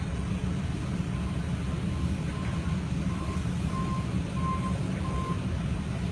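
A truck at a trash dumping site, its heavy low engine rumble running continuously while a regular series of reversing beeps sounds in the middle, with no talking.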